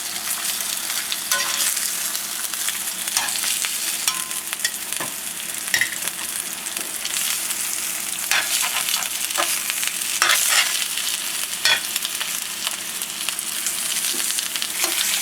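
Pork chops sauté in a preheated pan for a maple Dijon glaze, giving a loud, steady, close sizzle that never lets up, with small crackles and pops scattered through it.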